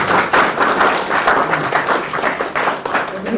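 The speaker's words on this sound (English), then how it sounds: "I think we should give another round of applause." Audience applause following a university lecture on rationality and artificial intelligence, a steady wash of many hands clapping from a large crowd, sustained and fairly loud throughout with no pause.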